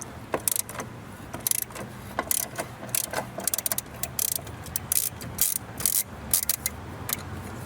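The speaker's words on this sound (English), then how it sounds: "Now you need to use 12mm socket to remove one bolt." A ratchet with a 12mm socket removes a bolt on a Toyota RAV4 with quick, repeated clicking strokes in bursts, close and fairly clear, alongside some metallic handling noise.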